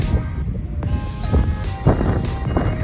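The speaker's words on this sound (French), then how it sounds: "le vent est super fort" Strong wind roars steadily across the microphone at the Cormainville wind farm, a dense low rumble with gusting swells and no voices.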